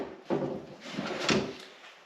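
An undermount soft-close cabinet drawer in a workshop slides along its hidden guides with a brief rolling swish, a soft bump at the start and a gentle settling at the end, close and quiet.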